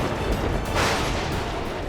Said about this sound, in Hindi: ये ध्वनि उस अमृत कोशागार के सुरक्षा कवच के टूटने की